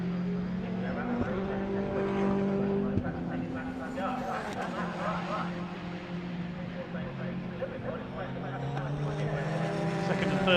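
Praga Cup race cars lap the Snetterton circuit, their engines rising and falling in pitch as they pass, with a commentator talking over the racing throughout.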